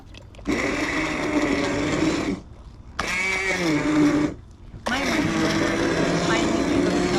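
An immersion blender whirs loudly in steady bursts in a home kitchen during harvest canning, stopping briefly twice between runs.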